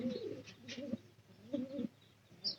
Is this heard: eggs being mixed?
no